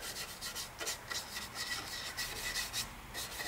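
A brush scrubs dry paint onto a Pikestuff truck terminal model train building, producing faint, quick, rhythmic rubbing strokes close by.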